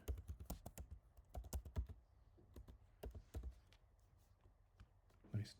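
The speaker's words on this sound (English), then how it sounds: "Nice typing." Typing on a computer keyboard, close and quiet clusters of rapid key clicks in irregular bursts separated by short pauses.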